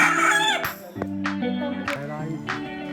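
Birds at Nainital zoo call out in a series of loud, fowl-like crowing and clucking bursts, several distinct calls in quick succession, heard up close.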